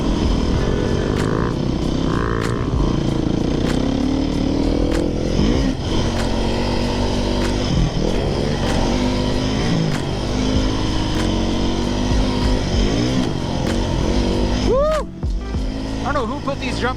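A Beta 390 RR-S dual sport dirt bike ridden along trails, its engine droning steadily and loudly close by throughout, with shifting revs and a rider's voice talking over it.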